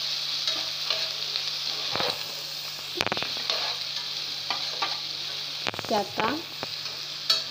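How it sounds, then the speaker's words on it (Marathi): Onion frying in a pan for semolina upma sizzles steadily up close, broken by occasional scraping spoon strokes, with a brief murmur of speech partway through. "तर आता कांदा थोडासा आपला तळला"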